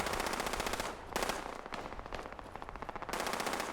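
Machine gun fire in the video game Fallout 76 rattles in dense, continuous rapid bursts, loud and close, with a brief dip midway before the firing resumes.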